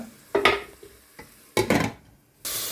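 Vegetables and peas being sautéed in a pan, heard as three short bursts of stirring and sizzling with spatula scrapes, separated by near silence.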